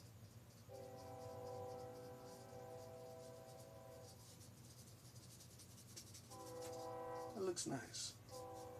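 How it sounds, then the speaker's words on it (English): A train passes in the background, heard as sustained horn-like harmonic tones that sound twice, once for a few seconds early and again near the end, beneath steady rumble while a person talks over it. "Listen to the train in the background."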